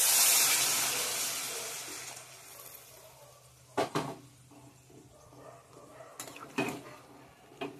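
Water is poured into a cooking pan of spiced potatoes for a vegetarian paneer dish, a loud rushing hiss at first that fades away, followed by a few clinks of a utensil against the pan.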